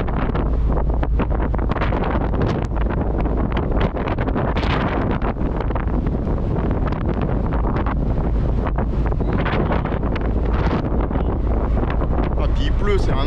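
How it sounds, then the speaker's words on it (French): Strong wind buffets the microphone in a loud, continuous roar with gusty thumps, and a voice is faintly mixed in beneath it. "il y a un vent énorme"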